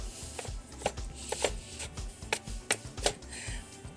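A knife chops blanched broccoli rabe on a cutting board with a quick, irregular series of close, crisp taps and thuds, heard alone without talk.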